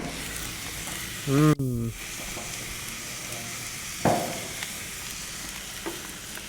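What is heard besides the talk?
burgers frying in a pan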